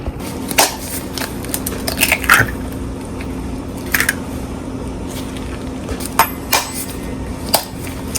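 Two eggs are gently cracked, giving several sharp, close taps and crunchy shell snaps spaced irregularly over a quiet kitchen background.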